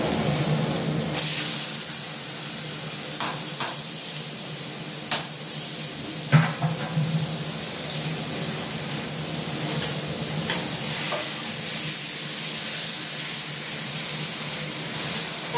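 Boiled taro leaves sizzle and fry in a pan, a steady hiss of steam and oil broken by occasional scraping stirs and a few sharp clinks of the spoon against the pan.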